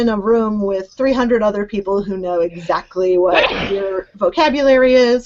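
A single sharp sneeze bursts out over continuous talk among people discussing a museum education preconference.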